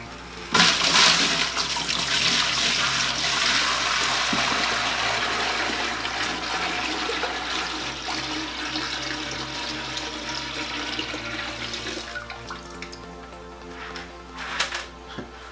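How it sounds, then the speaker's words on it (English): Water poured into an aquarium onto a plate laid over rocks, a loud sustained rushing splash starting abruptly and slowly easing in intensity, ending with a few louder clunks and splashes. "When you pour the water in, it's going to scatter all the rocks everywhere."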